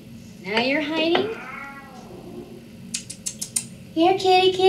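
A cat meows twice in a drawn-out, nearby cry, followed by light knocking sounds and then a person speaking.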